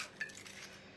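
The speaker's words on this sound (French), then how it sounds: "Donc je mélange mes deux œufs." Two eggs being beaten in a bowl, giving a faint, quick clinking and scraping of utensil against dish with one slightly sharper tap, alone and quiet.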